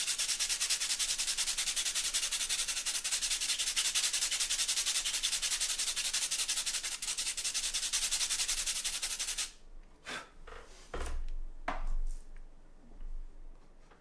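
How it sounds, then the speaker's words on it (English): Charcoal pencil being sharpened, a dense steady scraping hiss for about nine seconds, then a few separate short scratches and knocks close by in a quiet room. "Going to sharpen my charcoal again."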